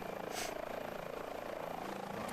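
An Airbus H145 helicopter in a VR medical rescue game drones with a steady, pulsing rotor chop throughout, moderately loud and close, with no talk over it.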